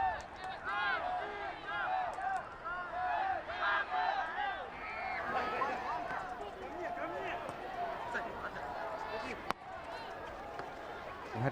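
A Brazilian stadium crowd at a London 2012 Paralympic 7-a-side football semifinal against Russia keeps up a steady wash of chanting and cheering voices, fairly distant but continuous, with a sharp knock near the end.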